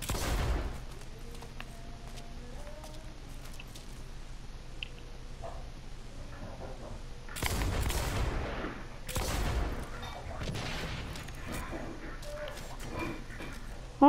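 Gunfire in the shooter game Blacklight Retribution during a one-on-one match: scattered single shots, then two heavy bursts of rapid fire a couple of seconds apart, with softer shots continuing after them.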